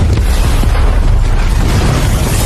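A loud, sustained explosion roar from an action film fills the whole stretch, dense and rumbling with heavy low-end weight and no speech over it.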